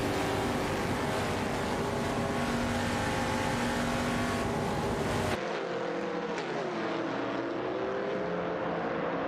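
Vintage race cars in a simulated AI racing event, engines droning steadily with a tonal whine that drops abruptly midway and then shifts pitch as another car passes.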